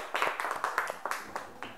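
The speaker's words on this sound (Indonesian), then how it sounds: "Kita beri tepuk tangan dulu untuk temannya yang sudah berani maju ke depan." Primary school classroom clapping for a group of pupils, a short burst of scattered hand claps in an uneven rhythm, fairly close and fading out after a couple of seconds.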